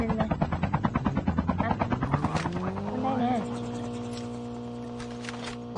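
An aircraft approaching in a video game gives a fast rhythmic chopping pulse that blends into a rising, steady engine drone, fairly loud and close.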